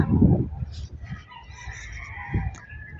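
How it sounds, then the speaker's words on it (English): Chickens cluck and a rooster crows faintly in the background in the Sierra Madre countryside, with a few low thumps and handling noises nearby. "There's chickens in the Sierra Madre."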